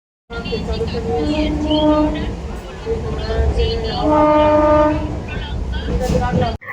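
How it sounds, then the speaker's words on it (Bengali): A train horn sounds in long harmonic blasts over steady rumbling rail noise, with a second horn call after a brief lull, close and loud. "যথারীতি ট্রেন ছেড়েও দিয়েছিল"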